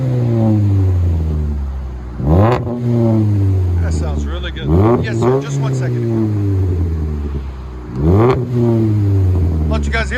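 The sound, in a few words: Pontiac G5 2.2L engine revving through muffler exhaust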